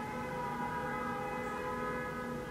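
A steady, sustained siren wail with layered tones, loud and unbroken for the whole short stretch, no voices present.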